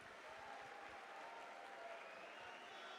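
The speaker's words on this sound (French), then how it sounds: "Lille, je veux un maximum d'applaudissements pour nos deux combattants" Steady applause from an arena crowd at a Lille MMA cage event, honouring two fighters after their bout; dense, continuous clapping at moderate distance throughout, with a faint voice briefly audible beneath.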